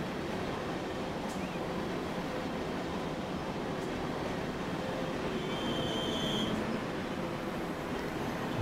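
Train accelerating in the Transport Fever video game, a continuous dense rumble of wheels and motor with a short high squeal partway through.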